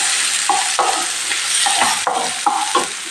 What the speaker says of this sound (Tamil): கொஞ்சமாக கருவேப்பிலை, வெங்காயம் போட்டுக்கோங்க. போட்டுட்டு லைட்டாக அப்படி வதக்கி கொடுங்க.